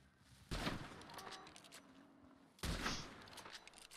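Gunshots in the western video game Red Dead Redemption 2, two sharp loud cracks about two seconds apart, each ringing out over quiet outdoor ambience.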